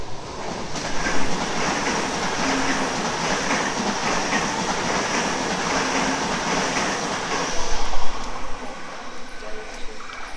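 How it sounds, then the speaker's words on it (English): A passenger train rumbles past at Ashfield station, a broad continuous roar with rail clatter swelling loudest near the end, with no talking over it. "Just checking to see if there's any other trains passing."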